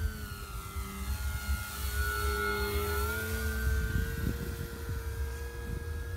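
A giant model plane flying inverted outdoors, its engine making a steady droning whine with a slowly shifting pitch over a constant rushing noise, sustained and fairly loud throughout.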